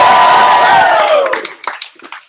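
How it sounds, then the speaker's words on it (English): An audience at a startup pitch final gives one loud burst of cheering and whooping, close and full, which fades into scattered claps and trailing shouts. "So on 3, we're going to cheer as loud as possible."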